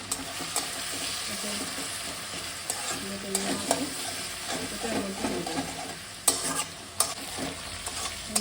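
Onion paste frying in a pan for a Bengali prawn malai curry, with steady sizzling broken by stirring and scraping strokes and a few sharper clinks of the spoon, close and moderately loud.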